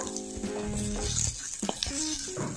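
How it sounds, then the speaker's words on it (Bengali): Ginger garlic paste hits hot oil among fried onions in a pan, crackling and sizzling steadily up close with a few stirring clatters and scrapes. "এবার আমি দিয়ে দিচ্ছি আদা রসুনের পেস্ট"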